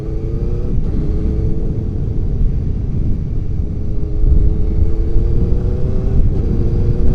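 Four-cylinder Suzuki GSX-R 600 SRAD motorcycle engine, loud and close, with a steady throaty rumble and rising pitch as it pulls through the revs, a brief dip near the start and a stronger surge in the second half.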